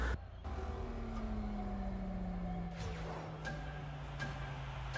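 A rocket racing car in Fortnite boosts hard off the start line, a steady engine drone with a slowly falling tone rolling on continuously, punctuated by a few sharp clicks and whooshes.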